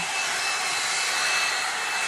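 A L'ange LeVolume blow-out brush hair dryer runs in a steady, close, breathy whoosh of blowing air, unbroken and constant in level, with no voices.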